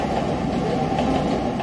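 A train rolls along a railway track close to homes whose doors and balconies open onto the line, giving a steady, loud, continuous rumble with a faint rattling texture throughout and no voices.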